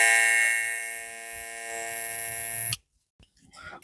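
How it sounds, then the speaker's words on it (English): A Babyliss FX1 hair clipper hums steadily with a bright, buzzing whine for close to three seconds, then switches off abruptly, followed by faint handling clicks. "Sound of the Babyliss FX1."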